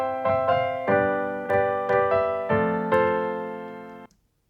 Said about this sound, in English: just blend in a little bit of that reverb, then you can create a very natural space around all the instruments in your mix